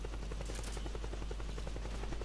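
A helicopter in Metal Gear Solid 4 thumps with a steady, rapid rotor pulse over a deep constant drone, sounding loud and continuous throughout with no talk.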